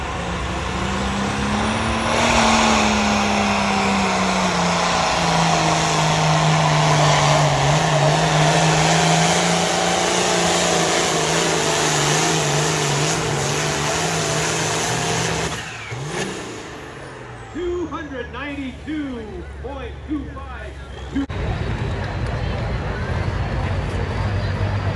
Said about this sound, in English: these diesels are loving to run